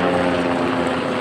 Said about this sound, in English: see the ghetto bird helicopters